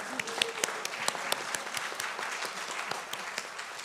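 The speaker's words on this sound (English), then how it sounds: "Can we have another appreciative round of applause for Carla for really just rolling with it this morning?" A congregation at a Unitarian Universalist Sunday service gives a round of applause for Carla, with individual claps standing out sharply through a moderate, fairly close patter.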